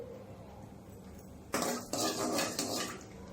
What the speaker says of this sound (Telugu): ఆవాలు చిట్పటలాడి తిరుగు మాత్రం వేగాలి.